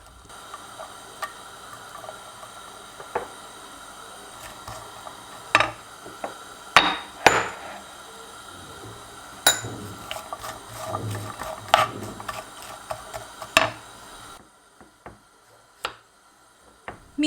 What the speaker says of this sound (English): Meanwhile, I'm slicing the potato in about half centimeter thickness.